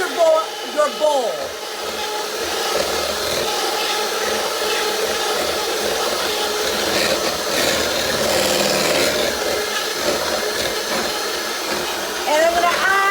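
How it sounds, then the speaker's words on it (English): An electric mixer whirs steadily in a bowl, beating a pumpkin chiffon pie mixture. The loud, continuous motor hum and scraping last throughout, with brief knocks against the bowl and a voice speaking faintly underneath. "move your mixer around and turn your bowl."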